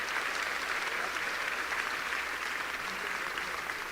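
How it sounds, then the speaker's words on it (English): Dense, sustained applause from a crowd in a gymnasium set up as a gubernatorial debate venue, an even unbroken roar of many hands without a break. "So a little round of applause for the team that put it all together."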